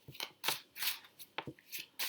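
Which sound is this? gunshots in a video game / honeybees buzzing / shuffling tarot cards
shuffling tarot cards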